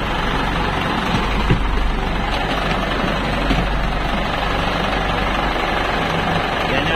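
Inside the engine room of a fishing boat at sea, the engine runs with a loud, dense, continuous roar and rumble that fills the space without pause.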